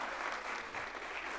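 Audience applause at a foundation day symposium, a dense burst of clapping from a crowd, steady and loud for about a second and a half before cutting off.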